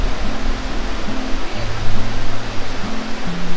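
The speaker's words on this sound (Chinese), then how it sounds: "优胜美地瀑布位于加州的内华达山脉" Yosemite Falls in Yosemite National Park, in the Sierra Nevada of California, roars in a continuous broadband rush of falling water on a windy day, loud and unbroken with gusty swells and a low droning hum beneath.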